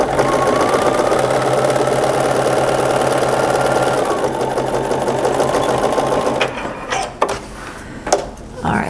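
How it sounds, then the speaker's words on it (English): A sewing machine stitches a swim trunks waistband seam, a loud, fast, steady mechanical whir running for several seconds before it slows and stops, followed by a few handling clicks and thumps. "Do not need to serge this, it just needs sewn together at the half inch."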